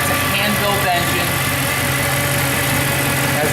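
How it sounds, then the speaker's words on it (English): A hand-built, dry-sump, naturally aspirated V8 in a 2012 Alubeam Silver Mercedes-Benz SLS AMG idles close by with a steady, dense mechanical rumble and hum that holds an even level throughout. "It is a low-down, dry-sump V8, naturally aspirated."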